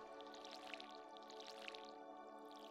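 Watering crops with a watering can in the Stardew Valley video game, heard as steady soft dripping and splashing water effects over faint background music, with no talking.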